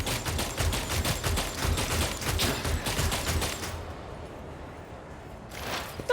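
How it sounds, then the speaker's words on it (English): A shuriken cannon fires in Warhammer 40,000: Rogue Trader, a dense rapid stream of projectiles lasting about four seconds, loud and close, followed by a quieter tail and a brief last burst, with no talk. "That's a shuriken cannon."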